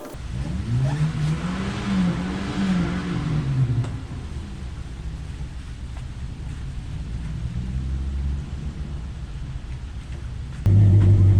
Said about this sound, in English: apparently his car stalled or something, I don't know, but it made a lot of noise, puffed out a lot of smoke, and it almost sounded like a diesel